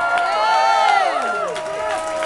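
A concert crowd cheers and shouts for the band at a Liverpool show, a loud dense roar of many voices with whoops rising and falling throughout.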